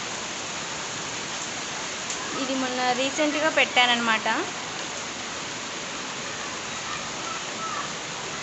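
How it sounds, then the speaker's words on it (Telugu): Heavy rain pours on garden plants, including a butterfly pea vine, as a dense, continuous hiss from start to end, with someone speaking briefly over it partway through. "చూస్తున్నారు కదా ఎలా ఉందో వర్షం పడుతున్నప్పుడు ఈ విధంగా మొత్తం. సౌండ్ చూస్తున్నారు కదా ఎలా వస్తుందో."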